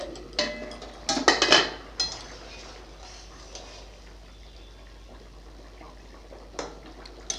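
A metal lid is lifted off a pot of rohu fish and taro curry, a few close clanks and rattles in quick succession, then quiet simmering with a faint clink later.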